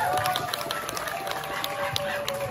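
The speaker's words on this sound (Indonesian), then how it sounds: "Tepuk tangan untuk kita semua." Brief burst of crowd applause, many hands clapping at once in a dense, steady patter with some background voices.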